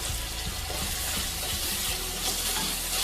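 Sliced tomatoes and onions sautéing in hot oil for a Kerala-style fish curry, a dense steady sizzle with soft stirring scrapes, close and fairly loud, no talking.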